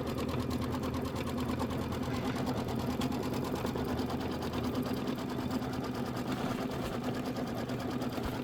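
An embroidery machine stitches out a design with a steady, fast mechanical whirr and rhythmic needle clatter, continuous and fairly quiet throughout.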